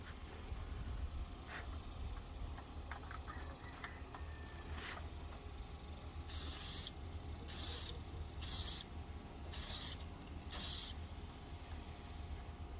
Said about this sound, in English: make sure to hold your spray paint at different angles so as to get into all those little crevices